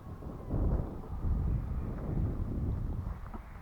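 Outdoor wind buffets the microphone with a loud, continuous low rumble while balsa gliders are being flown, gusting slightly stronger over the middle seconds.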